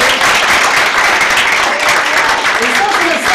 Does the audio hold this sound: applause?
yes